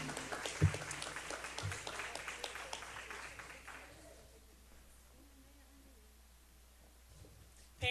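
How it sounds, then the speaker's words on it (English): An audience at a school board of education meeting gives a round of applause, with clapping that is faint and distant, fading out after a few seconds into near quiet before a sudden noise at the end. "Let's give them a round of applause"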